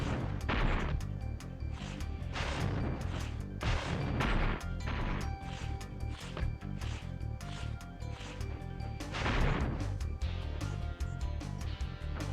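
Bombs in a Spyro 2: Ripto's Rage mini boss fight give a dense, loud run of crashing blasts and thuds over game music, with heavier bursts recurring every few seconds.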